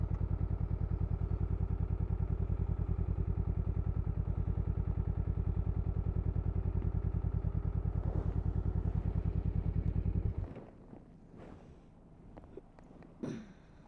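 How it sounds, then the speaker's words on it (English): A Honda CMX500 Rebel SE motorcycle engine idles with a steady, rapid low-pitched pulsing for about ten seconds, then cuts off, leaving faint handling noises and a few soft knocks. "Got the engine running."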